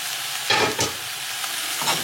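Peas and carrots stirred into a hot pan for a jardinière, a constant sizzle broken by two or three louder scraping stirs of the utensil, close by and without talk.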